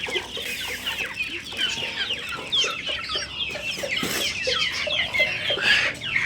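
A flock of chickens clucks and squawks continuously while being fed grain in summer, close and busy, with overlapping calls and no talk.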